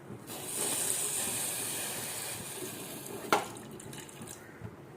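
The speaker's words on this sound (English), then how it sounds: "and add 1 cup water." One cup of water pours steadily into sugar for ice gola syrup, a continuous hissing splash from near by that ends with a soft clunk.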